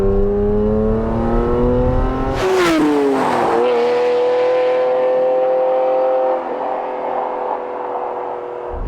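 A Ferrari F512 M, the last Testarossa variant, takes a corner with its engine note holding steady, then a sudden loud burst as it shifts and accelerates out of the bend, followed by a sustained drone from inside the car.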